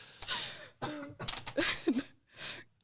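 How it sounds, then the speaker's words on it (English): Several harsh throat-clearing coughs and rasping breaths come in quick bursts, close and moderately loud, with short pauses between them. "Cough."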